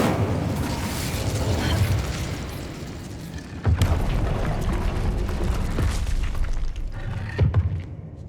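Fire spell cast in Hogwarts Legacy, a continuous roaring, booming blaze with repeated heavy thuds and bursts, loud and close, running the whole stretch.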